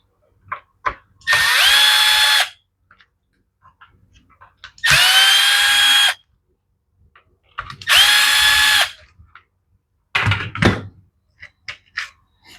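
Power drill backing screws out of the side cover of a Husqvarna with a bad boot, three loud whirring bursts of about a second each, separated by clicks and clunks of handling, up close, with no speech.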